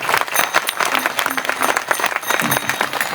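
A crowd claps loudly and steadily at a gathering during the Sant Nivruttinath Maharaj palkhi dindi procession from Verul to Trimbakeshwar. The dense clapping continues for the whole span, with faint voices beneath it.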